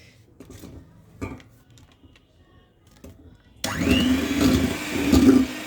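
Electric beater whirring into rasmalai cake batter with three egg yolks, a steady motor hum that starts abruptly after a few light knocks and carries on close and moderately loud, with no talk.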